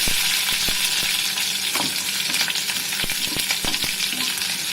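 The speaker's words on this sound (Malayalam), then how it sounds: "വെളുത്തുള്ളി ഇത് നന്നായിട്ടൊന്ന് ഇളക്കി കൊടുക്കാം." Chopped garlic and green chillies frying in a pan and being stirred, giving a steady close sizzle with repeated sharp scrapes and clicks of a spoon against the pan.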